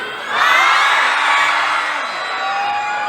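Crowd of people cheering and whooping at a New Year celebration at Fashion Island mall, a loud sustained burst of shouts and yells that swells quickly and holds steady.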